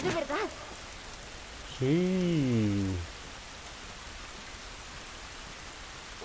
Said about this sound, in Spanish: Esta lluvia no nos va a ayudar.